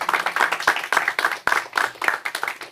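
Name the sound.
audience clapping for educators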